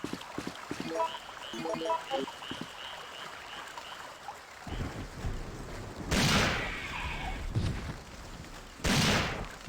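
Magnum revolver shots in the video game Resident Evil 3 REbirth, two loud booming blasts a few seconds apart, each with a rumbling tail, following quieter in-game clatter and croaking ambience.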